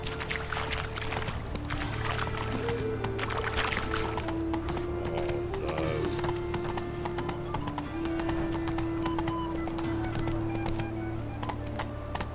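Roach, the horse in The Witcher 3, gallops with a fast, steady clip-clop of hooves, close and continuous, over a sustained musical drone from the game.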